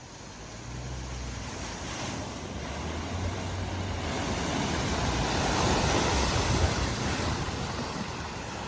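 Cars driving through a flooded ford in the UK: a continuous heavy rush and splash of churning water with a low engine rumble beneath it, steady and loud throughout.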